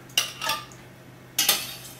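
Whole tomatillos, undrained, are dropped into a blender for salsa verde, giving two clattering bursts of hard knocks against the jar with a quiet gap between, no talk.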